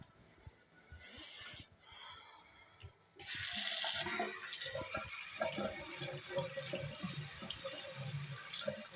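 Water pours steadily from a tap nearby, a soft continuous splashing stream that cuts out briefly and then resumes at a stronger flow.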